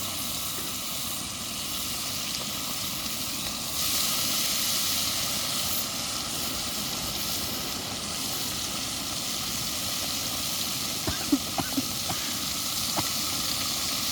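Hot oil heats in a pan before frying, giving a steady hissing, faintly bubbling wash that swells slightly partway through, with a few small clicks near the end.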